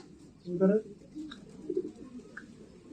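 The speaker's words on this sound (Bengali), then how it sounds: "এই যে শহীদ ভাই কবুতর বাড়ির ছাদের উপরে চলে আসে" Pigeons at a house rooftop during a Giribaj pigeon race, with a brief, fairly loud cooing call near the start, then soft bird sounds over low background noise and a murmur that may be speech.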